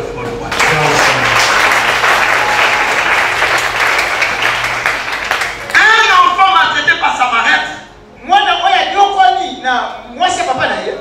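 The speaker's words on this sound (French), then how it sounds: "Acclamons très fort le roi." A church congregation bursts into loud, sustained applause and cheering for several seconds, then it fades as a preacher's voice and singing-like speech take over.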